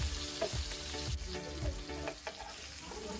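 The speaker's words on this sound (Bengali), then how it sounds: "বাকি দুই পিসও আমি এভাবে ভেজে নেব।" Pieces of rohu fish sizzle steadily in hot oil, a close, continuous crackle with faint rhythmic thumps underneath, quiet overall and with no talk.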